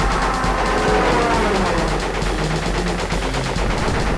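Rapid, continuous machine-gun fire from a plane in the aerial combat stage of Crash Bandicoot 3: Warped, a loud, dense stream of shots with no pauses and no talk.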